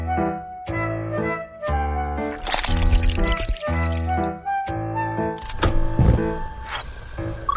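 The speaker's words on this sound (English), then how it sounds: "Let's boil the dried bonito flakes." Dried bonito flakes boil in a pot in the Baby Panda cooking game, with bubbly liquid pops and gurgles layered over cheerful tonal game music that starts and stops in short phrases.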